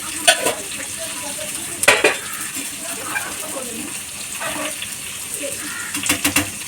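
Onion fries in a pan with a continuous sizzle, under repeated scraping and clinks of a metal spoon stirring against the cookware, close and fairly loud.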